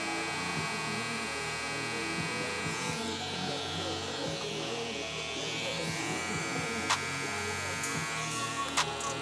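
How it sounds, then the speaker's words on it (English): An electric hair trimmer buzzes continuously up close while cutting hair, a steady motorized hum with slight variations as it moves, with no voices heard. "I'm gonna start off by getting majority of the hair off with my trimmer"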